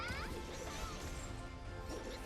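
Boss Albion's Earth Shatter attack in Seven Deadly Sins: Origin, a dense, loud crashing smash with heavy rumbling impact and sweeping game effects that fill the short moment.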